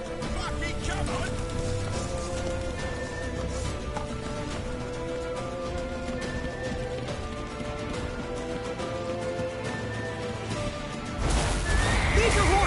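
A horse whinnies and hooves clop in The Witcher 3 over a continuous bed of game music and noise, with a louder surge of sound near the end.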